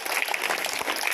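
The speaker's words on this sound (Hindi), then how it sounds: "ताली जोर से" Applause from a school Independence Day flag-hoisting celebration, a brief burst of steady, fairly close clapping from a group.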